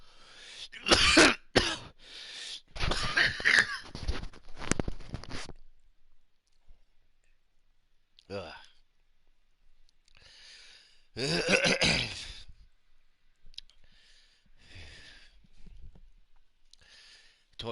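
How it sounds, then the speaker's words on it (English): One person breaks into a harsh fit of repeated close coughs and throat clearing, with a long quiet gap before a further throaty burst and some weaker coughs near the end. "Told you the coughing would be pretty bad."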